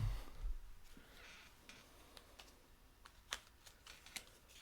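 Cards from a Bloodborne: The Board Game action deck are shuffled, heard as faint, quiet riffling and scattered light ticks and taps in an otherwise hushed room.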